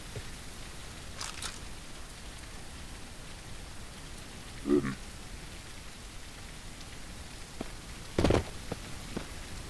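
Rain patters steadily in the survival game Mist Survival, a soft continuous hiss with a few brief louder knocks and clicks breaking through.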